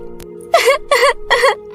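A cartoon girl cries in three short, high, wavering sobs over a faint steady background tone, following a brief soft click.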